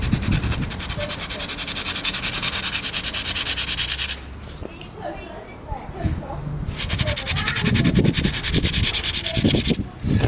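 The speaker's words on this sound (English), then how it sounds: "when you're sanding, what you would do is start off tough" Steady rough scratching of hand sanding on an aluminium split-rim wheel with curb damage, continuous strokes that pause briefly midway, then resume with a few knocks and rubs.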